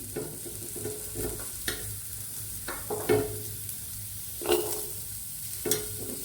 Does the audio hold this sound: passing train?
no